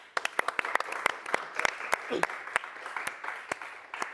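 A small group claps in quick, irregular applause, close by in a restaurant, with a voice speaking briefly in the middle.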